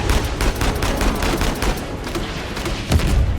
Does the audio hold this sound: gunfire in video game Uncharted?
yes